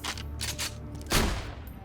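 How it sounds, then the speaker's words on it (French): Gunfire in the video game Borderlands 2, a few loud bursts of shots close together with one heavy blast near the middle, set against a steady game soundtrack. "Change d'arme et tire-lui dessus."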